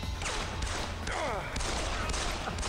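Gunfire in the video game Deus Ex: The Fall comes as a few sharp shots and short bursts with ricocheting whines, heard over the game's background sound.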